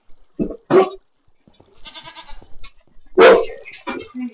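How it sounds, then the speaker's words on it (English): Goats bleating close by in a few separate calls, some short and sharp, one longer wavering bleat, with quiet pauses between. "And these goats won't leave me alone."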